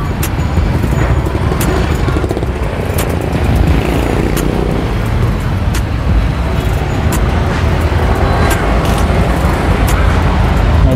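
Steady, loud road traffic with car and motorcycle engines passing close by during a bicycle ride out of a village toward Caloocan Sports Complex, a continuous roar with occasional revving.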